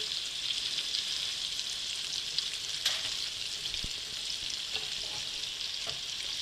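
Filet medallions searing in a hot pan, a bright, steady, close sizzle throughout with a few faint clicks from handling.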